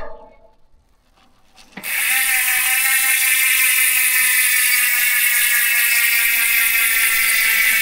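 A Maxon Stroke 4.0 MTB hub spun in freewheel on a Saturn Atlas 2.0 XC mountain bike with sealed bearings, starting after a short quiet moment as a loud, steady, fast ratcheting buzz, close up and without talk.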